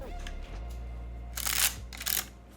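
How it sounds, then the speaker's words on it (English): Ricoh TLS 401 film camera shutter firing, two quick crisp mechanical clicks close to the microphone over a steady low electrical hum. "the shutter sound is very satisfying"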